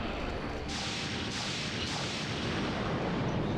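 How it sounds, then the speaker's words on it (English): A charged cannon shot attack in the video game The Legend of Dragoon, a loud sustained blast of roaring noise with repeated surging whooshes filling the whole clip, with no speech over it. "And there goes the cannon shot."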